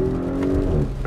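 A 2018 Audi SQ5 B9 with a performance exhaust rumbles and revs briefly, a deep steady engine tone rising slightly, heard up close with no talking.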